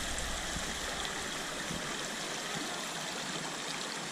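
A clear mountain stream in Zakarpattia's Velyka Uholka area runs over stones just above a waterfall, a soft, continuous, even rush of water with no voices.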